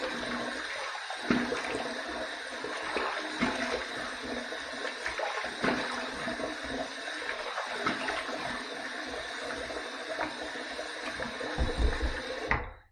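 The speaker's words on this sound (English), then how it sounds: "So let's go ahead and let's rinse just a little bit" Running water pours steadily from a tap as a safety razor is rinsed during a wet shave, a close, continuous splashing hiss with small clinks and bursts, ending abruptly when the flow stops.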